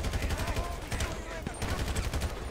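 Bursts of rapid gunfire in GTA 5 online play, fairly loud automatic shots repeating in quick rhythmic strings with a brief lull midway.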